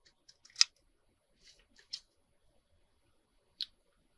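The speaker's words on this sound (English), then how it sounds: "I'm going to trim it down a little bit." Scissors snip a paper picture being trimmed to fit a card, giving several short, crisp cuts in quick clusters near the start and middle, then a single sharp snip after a pause, in an otherwise quiet room.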